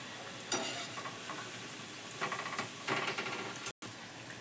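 Green pea vadas deep-frying in oil over a low gas flame, a continuous close crackling sizzle with louder bubbling bursts, no voices.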